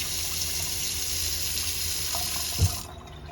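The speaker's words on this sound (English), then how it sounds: "Step 1, rinse the hair." Steady running water pours from a tap while hair is rinsed, a continuous close hiss with a brief soft knock near the end before the flow cuts off.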